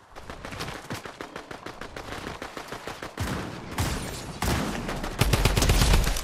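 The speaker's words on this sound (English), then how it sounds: "Oh, who are you shooting at?" Rapid bursts of gunfire in a video game, dense overlapping shots and sustained automatic fire that grow louder and heavier toward the end, with no talking.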